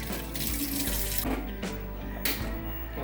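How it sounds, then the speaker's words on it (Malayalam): Water running from a kitchen tap into a pot or sink during home cooking, a steady close rushing stream with brief interruptions as the flow shifts. "കുറച്ച് വെള്ളം ഒഴിക്കണം."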